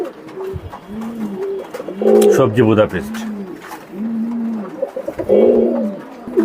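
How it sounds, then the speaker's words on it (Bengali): Belgian-bloodline racing pigeons coo in repeated soft rolling phrases close by at a pigeon seller's in Mirpur, Dhaka, with people talking over and between the calls. "এটা হচ্ছে একটা রেসার কবুতর, বার্লেস রেসার, বেলজিয়াম ব্লাড লাইনের অরিজিনাল"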